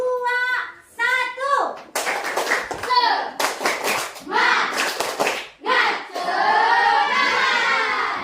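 A classroom of children performs tepuk semangat, a rhythmic clapping ice-breaker, chanting and shouting together between bursts of patterned claps led by a teacher, loud and close.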